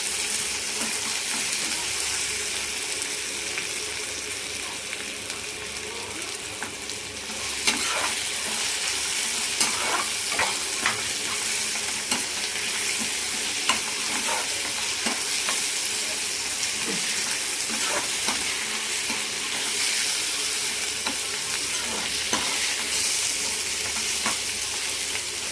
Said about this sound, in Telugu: ఈ తురుము కూడా చక్కగా వేగిన తర్వాత కొంచెం మగ్గనివ్వండి.